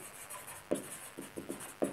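Chalk or marker strokes on a board during a business statistics lecture, a few short scratchy bursts at irregular intervals over a quiet room hum, fairly faint.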